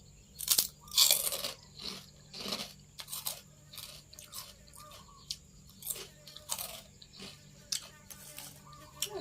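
Crunchy pork cracklings eaten with chili dip, heard as loud, close crunching bites and chewing that repeat in irregular bursts, with a little quiet talk.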